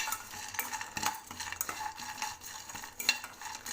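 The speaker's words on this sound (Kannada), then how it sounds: "ಸ್ವಲ್ಪ ಒಂದು ನಿಮಿಷ ಡ್ರೈ ರೋಸ್ಟ್ ಮಾಡಿಕೊಂಡು ಇದನ್ನು ಮಿಕ್ಸಿ ಮಾಡಿ" Dry fruits stirred in a hot pan with no ghee while dry roasting, giving a steady close scraping and rustling with light clinks of the utensil against the pan, and no voices.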